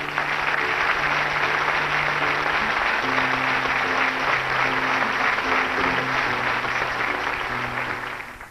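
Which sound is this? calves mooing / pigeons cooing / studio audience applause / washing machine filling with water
studio audience applause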